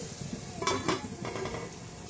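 A lid clanks onto a metal cooking pot, two quick close metallic knocks followed by a softer settling rattle, faint and alone without talk.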